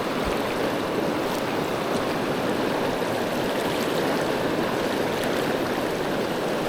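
Fast-flowing pocket water on a New Zealand river rushes in a loud, steady, unbroken roar, close by and alone with no voices.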